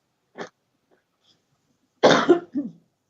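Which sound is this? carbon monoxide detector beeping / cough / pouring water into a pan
cough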